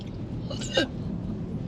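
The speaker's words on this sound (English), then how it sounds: "I've really got hiccups." A woman hiccups once, a short sharp gulp rising out of steady background room noise and chatter, heard close and alone without speech over it.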